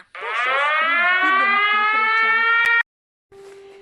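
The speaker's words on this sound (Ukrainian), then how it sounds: "Увага! Повітряна тривога. Пройдіть в найближче укриття." A Ukrainian air raid alert siren rises in pitch and wails loudly for almost three seconds with a spoken announcement over it, cuts off abruptly, then returns as a softer steady tone.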